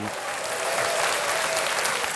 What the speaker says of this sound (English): There's a crowd.